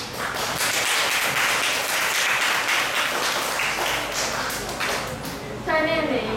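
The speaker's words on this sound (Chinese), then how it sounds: "热烈的掌声欢迎" An audience at a Tainan primary school graduation ceremony breaks into warm applause, a dense sustained clapping that fills the hall before a voice begins to speak near the end.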